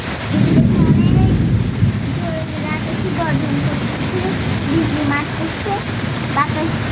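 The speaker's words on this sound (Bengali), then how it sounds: "অনেক জোরে বৃষ্টি হইতেছে" Heavy rain during an approaching cyclone, a constant dense wash of rainfall with low rumbling underneath, while a person talks intermittently over it.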